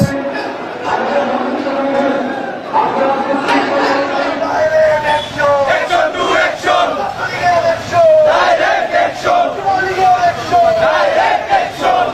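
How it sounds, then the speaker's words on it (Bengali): A large crowd of Awami League protesters chants slogans in rhythmic, shouted call-and-response at a street rally in Bangladesh demanding Yunus's resignation and Sheikh Hasina's return. The chanting is loud and close, with repeated surges of massed voices. "তাদের স্লোগান হচ্ছে দুনিয়ার মজলুম এক হয়ে লড়াই করো"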